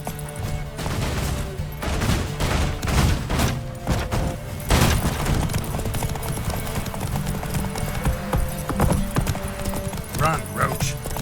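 Roach the horse galloping in The Witcher 3, a steady rapid clip-clop of hooves close up with clattering game effects and a raised voice over it.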